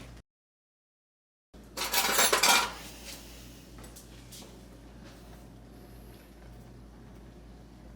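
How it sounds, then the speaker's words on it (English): Dishes and cutlery clatter into a kitchen sink in one short burst of clinks, followed by quiet room tone. "Let me put this in the sink."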